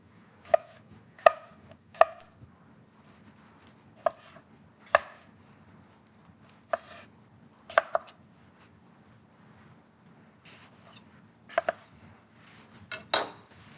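A knife cuts ripe peaches into wedges on a board with about a dozen sharp, irregularly spaced taps, close and clear against quiet.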